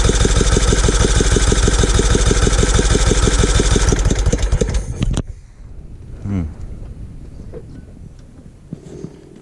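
Riding mower engine running loud and steady with a rapid regular firing pulse for several seconds, then cutting out abruptly, leaving quiet background with faint voices.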